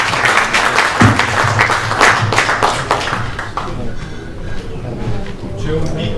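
Audience applause at a regional government gathering with assessors and directors in Borgo Spoltino, a dense patter of clapping that swells and then thins over several seconds, with voices mixed in beneath it.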